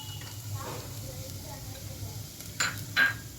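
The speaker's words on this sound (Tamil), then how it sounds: "இது முதல்ல போட்டு கொஞ்சம் லைட்டாக திருப்பி விடுவோம், மிக்ஸ் பண்ணுவோம் நல்லா." Carrots tossed with golden-browned fried onions in a pan for vegetable soup, a low sizzle with soft stirring scrapes and a couple of sharper clinks near the end.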